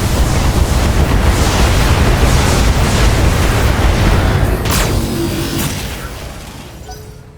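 Weapon fire and explosions in the BattleTech video game: a loud, dense roaring rumble with booming blasts that holds steady, then fades away over the last couple of seconds.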